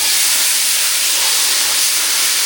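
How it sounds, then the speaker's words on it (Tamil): Hot tempering of dried red chilies and cumin is poured into a mango, drumstick and eggplant sambar, giving a loud, steady, close sizzling hiss that fills the whole stretch without a break. "தாளிப்பு ரெடி ஆயிடுச்சு இப்போ சாம்பார் கூட சேர்த்துக்கலாம்"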